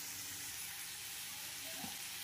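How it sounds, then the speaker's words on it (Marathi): Water poured into a hot pan of eggplant curry gives a steady, faint hiss and sizzle of steam throughout, with no voices. "यामध्ये पाणी घालूया।"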